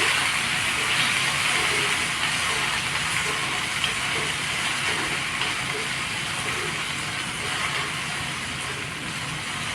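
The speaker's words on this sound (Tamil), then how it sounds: "இப்போ உருளைக்கிழங்கு நல்லா வதக்கி விட்டுக்கோங்க" Small potato cubes sauté in about two spoons of oil in a pan, giving a steady, even sizzling hiss that continues unbroken throughout with no voices.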